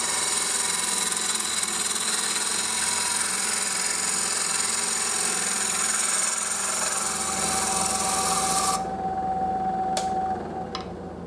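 Bowl gouge taking very light finishing cuts on wooden bowl spinning on a lathe, a steady whirring drone with soft scraping rub that stops near the end, leaving faint ticks.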